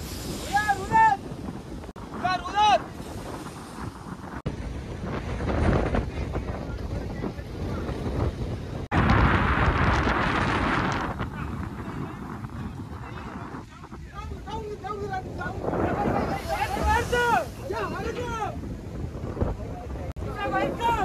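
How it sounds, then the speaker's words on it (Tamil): Strong, gusty wind roars across an open microphone on a fishing boat at sea while hauling a net, with water sloshing and a voice talking in Tamil over it in bursts. "காற்று போக போக ரொம்ப அதிகமாகிக்கிட்டே போகுது."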